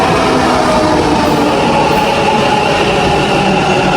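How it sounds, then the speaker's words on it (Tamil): Loud, continuous rumble and rattle of a train rolling into a station in Goa, India, steady and close, with no voices. "இப்போ ஒரு ட்ரெயின் வருதுன்னு நினைக்கிறேன்."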